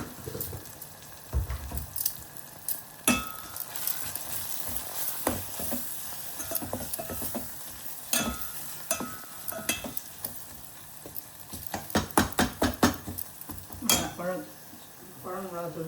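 Chili powder is stirred into pakoda kulambu frying in a pan, with a steady sizzle under repeated scraping and clinking of a spoon against the pot.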